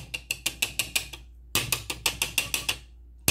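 A whisk attachment is unlatched and pulled from a stand mixer while making coconut macaroons, giving two quick runs of crisp, evenly spaced ratcheting clicks, close and clear, with a brief pause between them and no voices.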